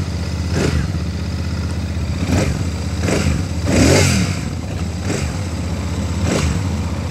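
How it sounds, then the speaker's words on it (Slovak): Royal Enfield Hunter 350 motorcycle engine running near and steady, with several sharp throttle blips spaced a second or so apart, the loudest rev in the middle, over a constant idle rumble. "Tento kúsok si môžeme rovno aj naštartovať."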